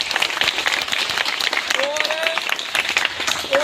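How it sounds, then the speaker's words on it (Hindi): Audience at a political gathering applauding, a dense burst of clapping from a crowd, with a voice speaking over it. "इनके लिए जोरदार तालियां"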